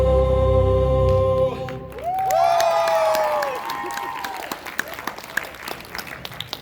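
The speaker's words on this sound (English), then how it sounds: "I don't deserve applause" Concert audience at a MomoCon 2021 Winterfest show breaks into loud applause and cheering as a sung melody ends, the crowd noise swelling then thinning to scattered claps and whoops.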